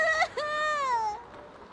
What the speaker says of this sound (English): There's a child crying somewhere.